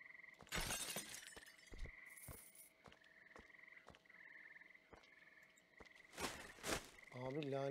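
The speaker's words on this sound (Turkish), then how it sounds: "kurbağa gürültüsünden var ya sinir oldum ha" A frog croaks repeatedly in the Train Station Renovation game, with steady rhythmic calls over quiet ambience and a few sharp crashes or shattering noises mixed in.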